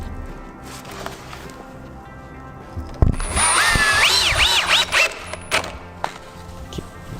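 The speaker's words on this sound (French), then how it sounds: "Donc j'ai juste à positionner la vis. Et je visse." A power screwdriver driving a screw into the sill of a flat-roofed TousChalets Eco garden shed. A few knocks come first, then a close, loud whirring burst rises and falls in pitch, followed by clunks.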